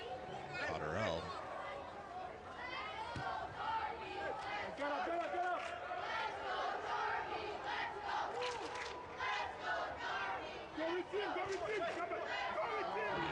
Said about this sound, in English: You certainly love to hear the vocal support from the crowd.